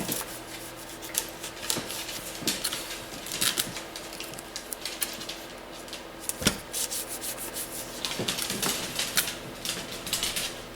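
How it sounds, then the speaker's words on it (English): Tape is pressed and rubbed down along the edges of chipboard for a handmade recipe box, heard as close, repeated scraping and rubbing strokes with occasional sharper taps, quiet and without speech. "We add some tape to it."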